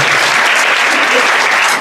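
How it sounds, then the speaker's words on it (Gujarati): A church congregation bursts into loud, continuous clapping in praise, a dense, steady wash of applause filling the whole moment. "તાળી પાડી પરમેશ્વરનો ધન્યવાદ કરીએ"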